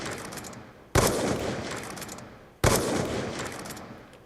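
Two loud sniper rifle shots from Black Ops 2, spaced well apart, each a sharp crack with a decaying tail over steady game background noise.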